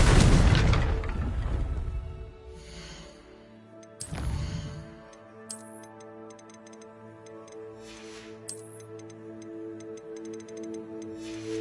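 The Confringo explosion spell in Hogwarts Legacy goes off with a loud burst, followed by a second sharp blast at about four seconds, then ringing magical tones and small crackling flares fade out over a musical drone.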